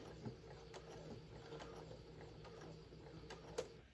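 A small home sewing machine back-stitches fabric while a patchwork tote is sewn, giving a quiet, continuous mechanical whir with a few soft clicks and taps, close and alone.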